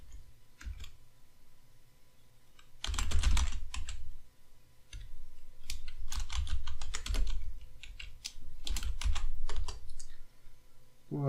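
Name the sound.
typing code on a computer keyboard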